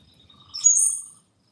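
A bird calls outdoors on a rainy walk, a single short bright chirp lasting about half a second against near-silence.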